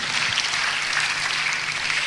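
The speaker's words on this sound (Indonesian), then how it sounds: "Tepuk tangan yang paling meriah buat Allah kita" Dense, continuous applause from a large church congregation, loud and steady for its whole short span.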